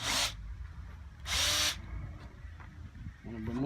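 A power drill removes screws from a homemade clay mold in two short, loud whirring bursts separated by a pause, with a faint voice near the end.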